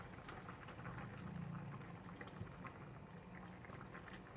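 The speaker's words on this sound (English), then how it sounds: "the tom yum soup is boiling vigorously again." A pot of tom yum soup with fish bubbles at a steady, vigorous boil, a continuous low gurgling and popping with no voices.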